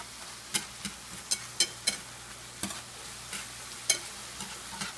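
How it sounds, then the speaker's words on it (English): A spoon scrapes and taps in a pan, stirring flour into sautéed mushrooms over a soft sizzle. The clicks come irregularly and close up, with no talking. "I'm just going to make sure that flour gets mixed in there good."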